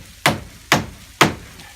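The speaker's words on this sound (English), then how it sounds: "put this last nail in." Three sharp, evenly spaced hammer blows drive the last nail into a hand-built roof with no power tools, each strike a loud, close thwack that decays quickly into quiet.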